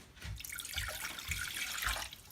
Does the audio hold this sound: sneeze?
no